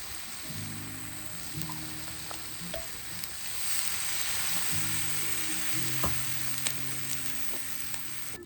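A can of stew cooking over a campfire during a New Year's Eve off-road camping trip, a close steady sizzle and bubbling crackle with light pops, no talking.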